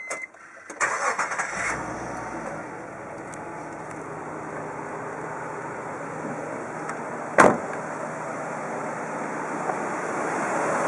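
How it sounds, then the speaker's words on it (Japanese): A Nissan Elgrand at a used car dealership in Chiba: a brief starter crank, then the engine settles into a steady, quiet idle, with one sharp knock-like transient partway through and no talking. "それではエンジンをかけてみます"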